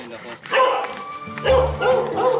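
A dog in a hillside subdivision in Tagaytay gives a few short yips and barks in quick bursts, close and moderately loud, mixed with people talking nearby.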